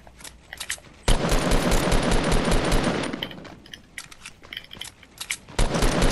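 Sustained automatic gunfire from the video game Fortnite rattles loudly for about two seconds, then fades into scattered shots and mechanical clicks before another burst near the end.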